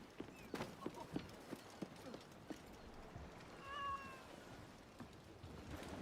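A cat gives a clear drawn-out meow near the middle, heard among scattered knocking and clattering sounds and quiet background noise.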